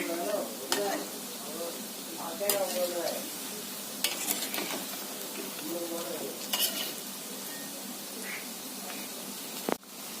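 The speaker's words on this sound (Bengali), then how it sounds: "বড়াগুলো ভাজা হোক এক সাইডটা ভাজা হয়ে গেছে" Coconut fritters frying in hot oil, with a steady soft sizzle and occasional scrapes and taps of a utensil against the pan, ending in a sharp clatter.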